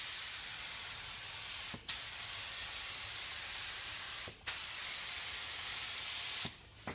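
An automotive spray gun lays down an activator pass as a continuous close, bright hiss. The hiss is broken by short trigger releases with soft clicks at roughly two-second intervals, and no one speaks.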